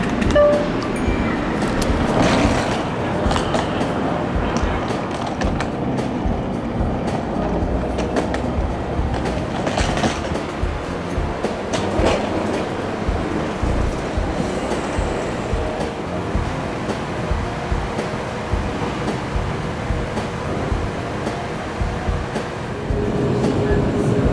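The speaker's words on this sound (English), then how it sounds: "I decided to try out the city's light rail system to get downtown" Rumbling and rattling from inside a moving light rail train in Portland, with rhythmic clacks over the rails and a steady, loud interior hum.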